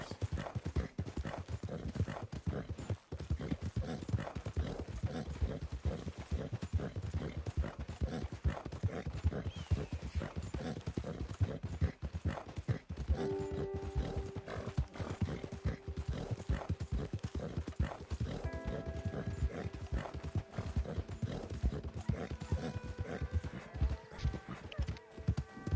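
Horse hooves pound in a steady galloping rhythm throughout a long stretch of Red Dead Redemption 2 gameplay, close and continuous, with a rider's voice speaking briefly and music tones rising in the background.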